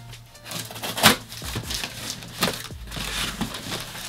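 A knife slicing open a shoe box, a few close, short scraping and tearing cuts through cardboard and tape, with soft rustling handling in between.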